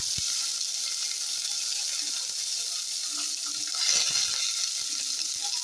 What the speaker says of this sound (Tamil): எண்ணெய் நல்லா சூடாகிடுச்சு. அதில் பட்டை கிராம்பு சேர்த்துக்குவோம். அது கூடயே வெங்காயத்தை சேர்த்துப்போம்.